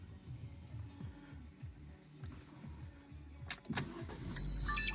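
Fiat Tipo (2015 or later) started with a key, with faint shuffling and handling noises followed by a brief clicking crank and the engine catching into a low idle at the end.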